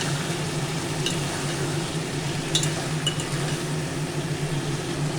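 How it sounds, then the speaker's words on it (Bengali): Chopped tomato sautéing in a pan, a steady low sizzle with occasional faint scrapes and stirs near the start and middle, close by and continuous with no talk. "টমেটোটাকেও ভালো করে কষিয়ে নেব"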